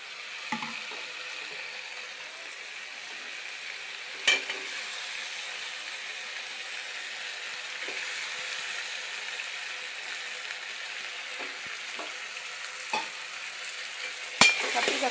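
Onion, tomato and eggplant sautéing in a pan make a steady sizzle throughout, broken by several spatula scrapes and knocks, two of them sharper and louder.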